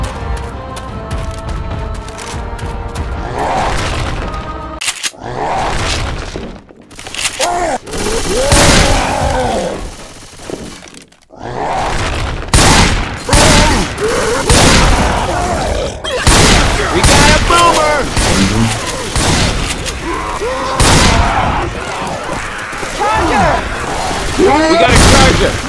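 Gunfire in the video game Left 4 Dead 2, repeated loud bursts and shots with heavy booms, broken by short gaps and mixed with in-game voices shouting over the action.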